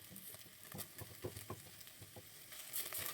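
Lamb meat with finely minced onion sautéing in a pan, soft sizzling with patter and scraping stirs, quiet and close, no voices.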